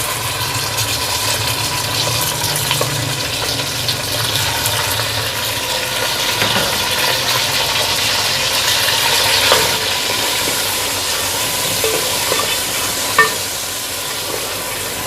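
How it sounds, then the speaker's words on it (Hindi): Chicken for pulao frying with golden-brown onions and garam masala in a pan over low heat gives a steady, close sizzle with occasional stirring scrapes and clinks, with no talking. "तब हम इसको भुनेंगे जब तक कि इसका कलर सफ़ेद ना हो जाए।"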